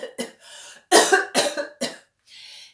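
A voice imitates a monster's harsh, rasping coughs, about six in a row, close and loud with short gaps between them.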